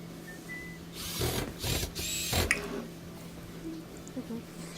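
A power screwdriver whirs in a few short bursts while driving top panel screws back into an LG washer, close and moderately loud, with a steady hum and a person talking at times.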